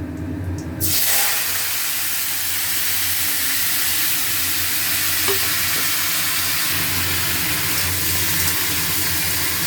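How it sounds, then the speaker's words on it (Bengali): Green tomatoes dropped into hot oil with chilli and panch phoron erupt into a loud, continuous sizzle, a steady frying hiss close by with faint stirring. "ফোড়ন ভাজা হয়ে গেছে এবারে কাঁচা টমেটোগুলো দিয়ে দিচ্ছি"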